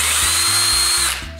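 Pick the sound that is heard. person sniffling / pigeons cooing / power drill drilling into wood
power drill drilling into wood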